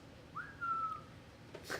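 A single thin whistle tone rises, then holds steady for about half a second, faint against a quiet background, followed by a brief bright burst.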